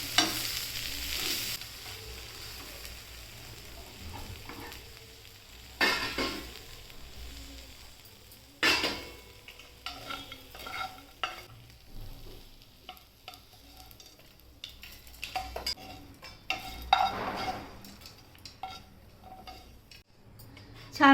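Moringa (drumstick) leaves dry-roasting in a pan for chutney, with irregular scraping and stirring strokes and a soft crackle running throughout; no one speaks.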